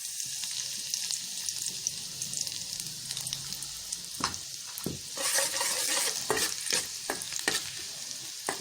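Garlic frying in hot ghee in a pan on a stove, for egg fried rice, with a steady close sizzle and intermittent stirring scrapes and clatters, no talking.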